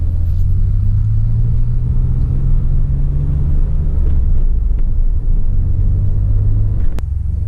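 Three DeLoreans roll down Interstate 5, their engines and tires making a continuous heavy rumble with a low engine drone that holds steady, then shifts slightly near the end.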